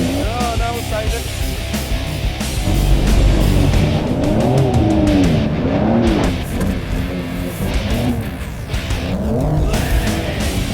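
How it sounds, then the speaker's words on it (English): A Porsche 911 slides around a skid pan at a racetrack, its engine droning under squealing, scrubbing tires, with a voice intermittently audible over the noise. "Skid panning a 911 is challenging."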